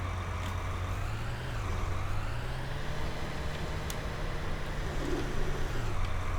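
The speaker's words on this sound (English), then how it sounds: "Come on, tractor. You can do it." A tractor engine in the Farming Simulator 19 video game drones steadily and loudly throughout, its pitch rising and falling as the load changes, with faint mechanical clicks and no talking.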